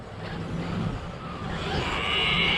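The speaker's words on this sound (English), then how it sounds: "Uh-oh, car's coming. Car's coming." Road vehicle drawing nearer, a steady engine and tire roar that swells louder toward the end over a broad noisy background.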